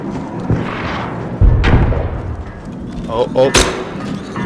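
Gunshots ring out in the video game Arc Raiders: a couple of sharp booming shots with thuds and other game noise, heard under a player's voice talking.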